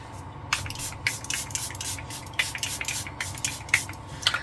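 Several short hissing bursts of Charlotte Tilbury Airbrush Flawless Setting Spray misting a made-up face, spaced irregularly, close to the mic over a faint steady background hum.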